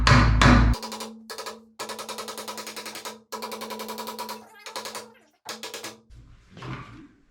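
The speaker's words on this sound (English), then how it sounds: "get it to go in with the side of the hammer" A hammer is swung repeatedly in a cramped space, striking with the side of its head as it drives a part in while planting a little tree and pulling wire, giving a series of sharp, close knocks in uneven bursts.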